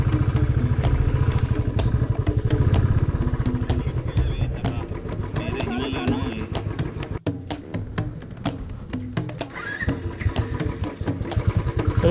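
A Royal Enfield motorcycle labors up a wet, rocky road with its wheel slipping, the engine chugging in a rapid, uneven thump with clattering knocks, close and loud, while voices talk over it.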